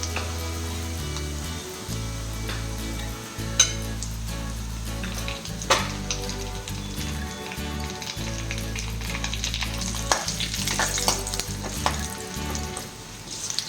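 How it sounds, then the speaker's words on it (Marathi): Dry coconut sautéed in a pan after chillies, for a tamarind-jaggery aamti premix, crackling and sizzling under a low, droning background tone, with a few scraping stirs and clinks. "आता टाकूया सुकं खोबरं."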